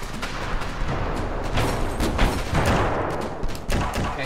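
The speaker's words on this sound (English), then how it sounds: "Okay, something exploded in front of me." Explosions and gunfire in the battle game Ravenfield, a dense, loud barrage of bursts and booms running continuously with no speech.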